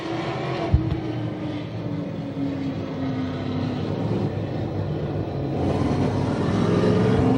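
A dirt-track sportsman race car at a speedway pulls away under its own power after a multi-car incident, its engine a steady, fairly loud rumbling drone that builds slightly toward the end, with no talking.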